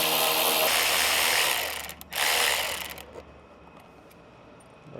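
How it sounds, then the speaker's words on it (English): Close, loud ratcheting clicks from a ratchet with a 10mm socket and extension loosening airbox screws on a Kia K5 1.6L turbo, two long runs separated by a brief pause, then quiet. "We're gonna use a 10mm socket with an extension. We're gonna go ahead and loosen them."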